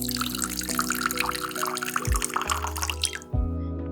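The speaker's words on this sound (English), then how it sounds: "Soak 2 tablespoons chia seeds in half cup water." Water is poured over two tablespoons of chia seeds in a kitchen, a close, steady trickle with a light music bed underneath.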